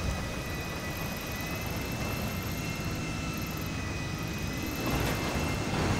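A steady helicopter engine drone in Grand Theft Auto V, with a continuous whine and whooshing rotor noise, loud and unbroken throughout, no voices.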